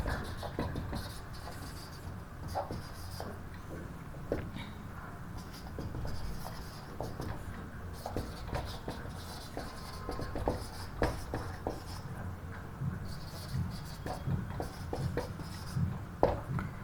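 Steady chalk or pen strokes during a group-theory maths lecture, a long run of irregular scratchy taps and scrapes, close and moderately quiet, with no speech.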